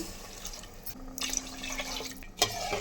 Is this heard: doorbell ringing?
no